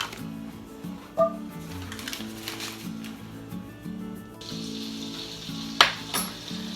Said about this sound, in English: And I'm going to melt 4 tablespoons of butter.